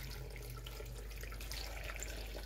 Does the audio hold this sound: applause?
no